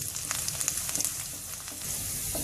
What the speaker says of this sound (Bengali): আস্তে শুকনো মরিচ দিয়ে দিলাম দিয়ে দিচ্ছি রসুন কুচি নেড়ে চেড়ে হালকা লাল করে ভেজে নেব